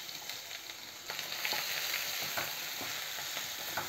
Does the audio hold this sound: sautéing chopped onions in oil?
yes